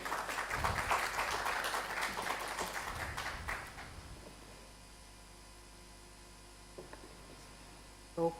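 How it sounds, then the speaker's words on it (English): Applause from the audience at a computing and networking conference rises briefly for a few seconds, then fades into quiet room tone with a couple of faint taps. "can you have a big round of applause for Professor Prakash?"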